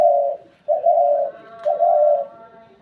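Spotted doves locked in a fight give three loud, drawn-out coos in quick succession, each a steady tone with faint harmonics, heard close and alone.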